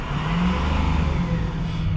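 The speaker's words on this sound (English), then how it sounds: "the truck is actually revving up and sounds normal now" A Ford 6.0L Powerstroke diesel truck engine with a turbo underboost fault runs at a held, raised speed, giving a loud, close, continuous drone with a low steady hum and no talking.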